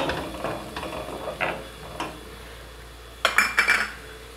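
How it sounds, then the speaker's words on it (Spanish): Browned onion and garlic sauce stirred in a pan, with a utensil scraping and clinking against the metal in scattered strokes, then a sharper cluster of clatters near the end, close and moderately loud with no talking. "Moveremos para que no se queme nuestro aderezo."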